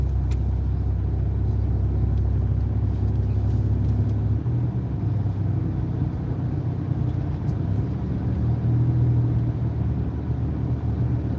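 A car cruises along a major interstate expressway with a semi-truck nearby, heard from inside as a steady low engine and road rumble that stays loud throughout.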